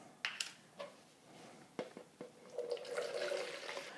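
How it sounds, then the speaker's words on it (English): Film-developing stock solution pours and splashes into a container, with a few sharp clinks at the start and a steady trickle building toward the end. "pour 250 milliliters of stock solution here."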